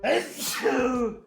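A single close sneeze bursts out, with a short spoken word tangled in around it.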